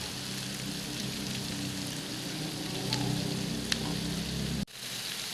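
Beef liver (kaleji) with green chillies sizzling and frying on a tawa, a steady dense crackle throughout with a few faint clinks, cut off sharply near the end before a quieter hiss resumes.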